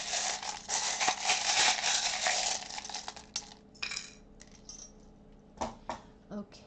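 Small charms and miniature tarot cards rattle in a charm bowl, making a dense metallic jingle and clink that settles into scattered lighter clicks and taps.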